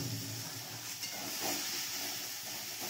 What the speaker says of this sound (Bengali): এবার এঁচোড়গুলো, সিদ্ধ করা এঁচোড়, সেগুলো দিয়ে দেওয়া হচ্ছে কড়াইয়ে।